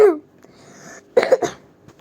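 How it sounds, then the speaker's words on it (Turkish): A single sharp cough at the start, then a short pause before a burst of two or three quick throat-clearing coughs, close and fairly loud. "ya öksürüyorum neyse"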